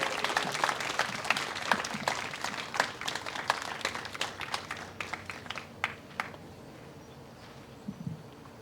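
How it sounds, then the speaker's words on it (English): Crowd applause for a speaker at a coffee and beer venue, steady dense clapping that thins out over the second half into a few scattered claps and then quiet room noise. "Can we give one more round of applause for Seth?"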